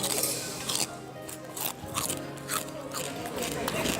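Crispy lechon pork skin crunching between the teeth in a restaurant, a run of sharp close bites and chewing crackles repeating through the stretch, with voices talking underneath.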